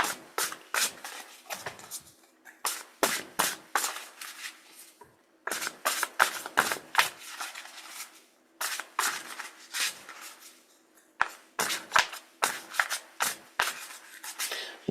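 Tarot cards being shuffled by hand, repeated bursts of rapid papery riffling and rubbing in short groups separated by brief pauses, close and fairly quiet.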